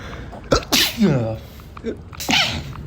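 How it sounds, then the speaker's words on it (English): A sudden, forceful sneeze near the mic with a sharp intake and burst, followed a moment later by a second, smaller sneeze-like burst. "I have a sneeze coming in."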